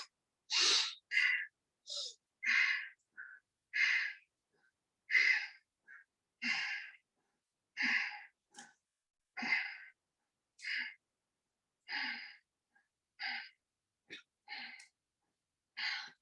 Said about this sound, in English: Breathe in and breathe out through your mouth.